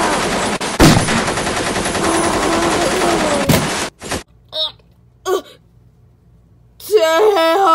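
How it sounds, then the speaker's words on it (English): A toy Nerf machine gun fires one loud, continuous rapid rattle for about four seconds, then stops abruptly. A few short vocal sounds and a brief tonal voice-like burst follow. "Machine gun."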